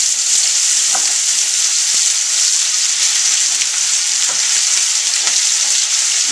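Onions fry in olive oil for a pasta alla checca sauce, a loud, even, close sizzle with scattered crackles and a few light clinks of a utensil against the pan.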